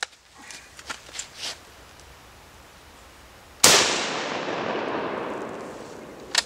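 A Carl Gustav 1896 Mauser rifle fires one loud sharp shot outdoors that rings out into a long fading echo, preceded by faint handling clicks and followed by a small click near the end.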